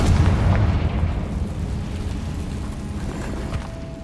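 A Confringo blasting spell explodes in a Harry Potter video game with a deep, rumbling boom that slowly fades away.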